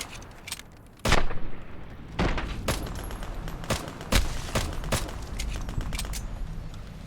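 Gunfire in the Fallout New Vegas video game rings out as a burst of loud, sharp shots at irregular intervals, some seeming distant and others closer, with no one speaking over it.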